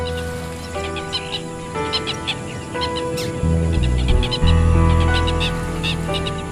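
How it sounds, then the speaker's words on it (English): Birds chirp and call repeatedly while mobbing a swimming anaconda in the wild, their scattered tweets layered over a steady ambient hum that swells partway through. "As she swims away, the birds mob her."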